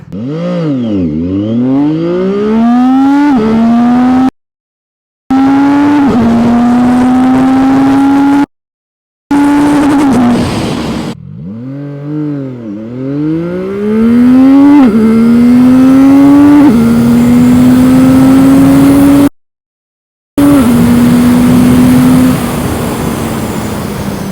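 A CFMOTO 675NK motorcycle accelerates hard from standstill to 150 km/h, its engine climbing through the revs in repeated rising sweeps with brief silent gaps at gear changes. Loud and close, with no talk.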